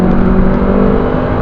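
Loud, close engine drone of a 2009 Honda Civic 1.8 SE i-VTEC automatic accelerating, a steady whirring hum with a strong sustained tone and no audible gear change across the brief span.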